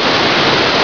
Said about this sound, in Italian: Questo è il fiume, il torrente impetuosissimo,